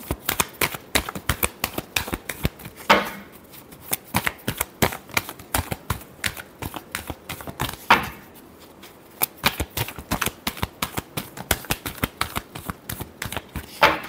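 Tarot cards shuffled by hand, giving a dense run of rapid, crisp papery clicks and riffles that continue for about fourteen seconds, with brief louder flicks and short pauses along the way, no voices.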